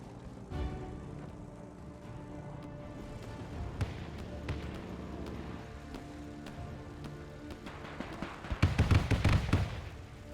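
Artillery firing in Men of War II lands as scattered sharp booms and cracks. The thumps are sparse at first, then come as a denser, louder burst of blasts near the end.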